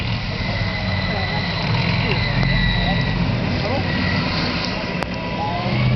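A Leclerc main battle tank on the move during a dynamic demonstration at an open day, its low, continuous engine rumble heard at a distance beneath an announcer's voice.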